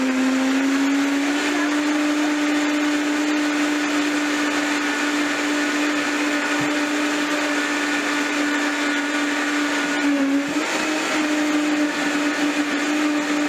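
A blender runs steadily, blending a green detox smoothie with hemp seeds; a loud, continuous motor whine holds a constant pitch, with a slight shift in load near the end.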